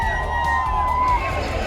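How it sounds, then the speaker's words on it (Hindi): Dense crowd noise from a huge mass of fans lining both sides of a Bengaluru road at the RCB victory parade, a steady loud roar of cheering and babble without a break. "सड़क के दोनों तरफ लोगों की भारी भीड़ थी, अबीर गुलाल उड़ाए जा रहे थे"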